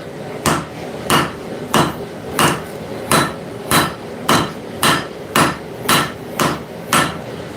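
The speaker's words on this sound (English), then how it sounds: "I'm going to use the 2 Basterds rounding hammer to do this" A 2 Basterds rounding hammer forges a tip on hot steel, striking twelve evenly spaced, ringing blows in a steady rhythm, close and loud, with no voices.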